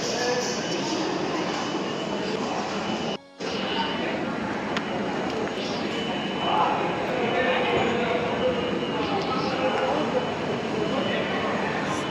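A Kolkata underwater metro train rumbles through a station beneath the Ganges, a loud, steady roar lasting throughout with one brief sharp dropout, and a voice faintly audible under the noise.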